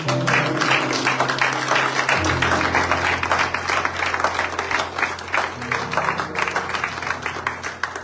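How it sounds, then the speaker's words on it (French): A church congregation applauding and cheering, dense sustained clapping from a large crowd lasting several seconds, with voices and a low musical drone underneath. "Est-ce que tu peux acclamer quelques minutes?"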